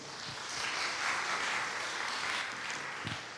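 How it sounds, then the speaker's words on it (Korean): Lecture audience applauding at the close of a corporate talk on hiring and retaining new employees, a steady, fairly faint wash of clapping with no voices over it. "다시 한번 감사의 박수 부탁드리겠습니다"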